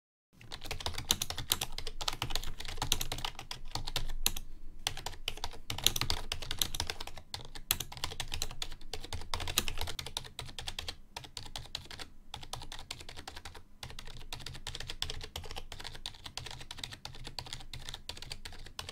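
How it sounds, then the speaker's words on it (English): Fast, continuous typing on a Razer Cynosa Chroma Pro rubber dome membrane keyboard, a dense stream of soft, muted keystrokes with brief pauses, close and clear with no talking. "Let's have a listen to the splendor of typing on rubber dome membrane keys."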